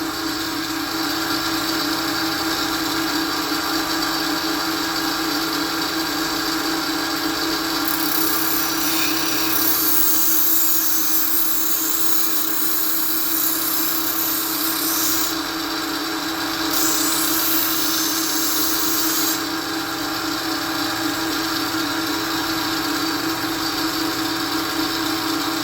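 A power grinder sharpening a chef's knife with a steady, loud, high whine and grinding rasp that runs continuously, shifting slightly in tone as the blade moves across the wheel.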